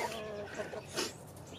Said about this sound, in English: the chickens are just going crazy here.